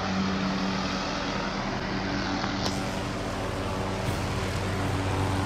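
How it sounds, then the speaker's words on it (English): A helicopter landing outdoors gives a steady, loud engine and rotor roar that holds level throughout, with no voices. "We got a helicopter landing."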